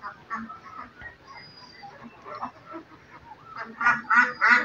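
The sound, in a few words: Khaki Campbell ducks quacking on a farm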